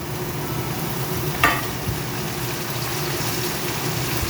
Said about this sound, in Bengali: এবার এর মধ্যে আমি দিয়ে দেবো টমেটো কুচিটা,